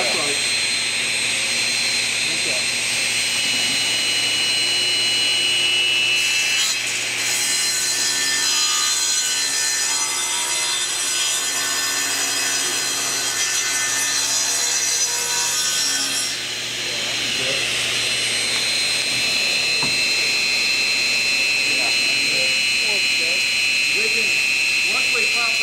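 A power tool cuts into wood while building a skiff boat, chips spraying out the back, with a continuous loud grinding whine that swells in the middle section; voices talk faintly over it.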